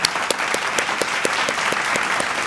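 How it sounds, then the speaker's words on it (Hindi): Warm audience applause for a film cast at a film festival, brisk steady clapping from a crowd with a few louder individual claps punctuating it. "आप लोगों की तालियां हो जाए एक बार please for such amazing cast"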